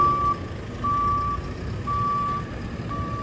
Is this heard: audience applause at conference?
no